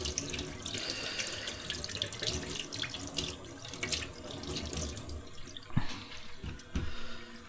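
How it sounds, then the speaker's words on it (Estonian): Tap water runs steadily into a sink while fish fillets are rinsed under it, a continuous close splashing broken by a few brief clunks and knocks near the end, with no talking. "nüüd vaja fileed puhtast lihtsalt pesta"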